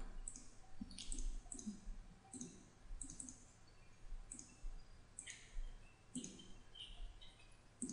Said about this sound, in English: So I'll click on this one.